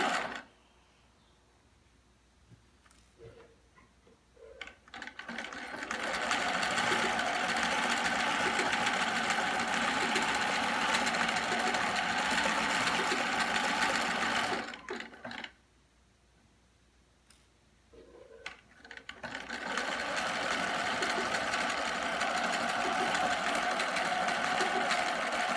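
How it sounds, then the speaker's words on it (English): A Husqvarna computerized sewing machine runs a straight stitch in two long bursts of loud, steady, fast mechanical whirring, with quiet pauses and small clicks between runs. "I'm going to go right up to a regular stitch, straight line"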